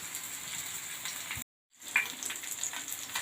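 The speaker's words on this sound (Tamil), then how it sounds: "இப்படியே கொஞ்சம் நேரம் அந்த எண்ணெயிலே அந்த ஹீட்லேயும் வேகட்டும்" Sardines fry in hot oil with a close, continuous crackling sizzle, broken by a brief moment of complete silence before the frying resumes just as strongly.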